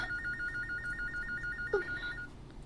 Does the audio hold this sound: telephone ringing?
yes